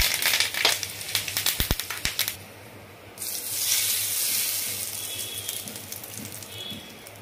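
Curry leaves dropped into hot oil: a burst of crackling pops and spits, then a steady loud hiss of sizzling that holds to the end.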